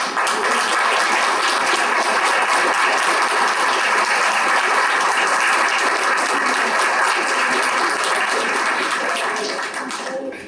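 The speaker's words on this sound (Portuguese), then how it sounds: "a quem eu peço uma salva de palmas" Warm, sustained applause from an audience honouring a late teacher's wife, dense and loud clapping that runs unbroken for about ten seconds before easing slightly at the end.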